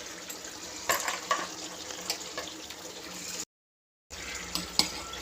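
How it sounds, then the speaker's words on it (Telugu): Dry rice grains tipped into a kadai of dum biryani masala, a soft rustling, stirring patter with faint sizzle and a few light clinks, then a brief gap before the pouring and scraping resumes. "ఇంకా ఇప్పుడు రైస్ వేసేసుకుందామండి."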